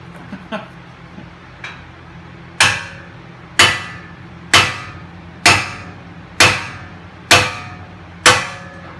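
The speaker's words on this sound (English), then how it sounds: "Definitely makes a huge difference using a little heavier duty hammer." Seven heavy hammer blows ring out on a metal front suspension part of a 2006 Toyota 4Runner at a steady pace, each sharp, loud and echoing briefly, after a few lighter taps at the start.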